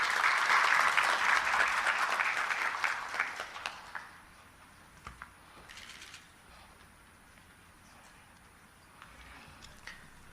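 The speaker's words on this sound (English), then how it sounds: "Could you help me welcome him with a round of applause?" An audience at a democracy conference in Arusha, Tanzania, applauds to welcome the Regional Commissioner, a dense burst of clapping that fades after about four seconds into scattered claps and quiet hall noise.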